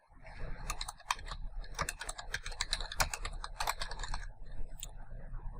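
Brisk, quiet typing on a computer keyboard, a steady run of close, crisp key clicks with brief pauses between bursts.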